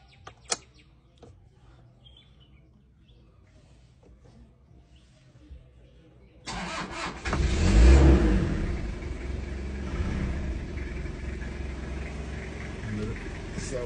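A Toyota Qualis engine cranks and catches after a few quiet seconds with faint voices, then settles into a loud, close rumbling idle with a rising rev surge before holding steady.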